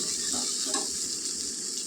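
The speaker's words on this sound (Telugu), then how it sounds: "ఇప్పుడు ఇందులో మనం తగినన్ని నీళ్ళు వేసుకుందాం" A steady, close stream of water pours into a pot of simmering mango pulusu curry, a continuous hiss and gurgle for the whole short moment.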